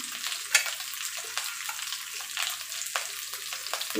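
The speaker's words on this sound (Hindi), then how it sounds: "अदरक लहसुन 2 मिनट भून जाने के बाद हम इसमें डालेंगे प्याज।" Onions fry in a pan with ginger garlic paste for chicken fried rice, giving a steady moderate sizzle broken by repeated scrapes and knocks of a stirring spoon.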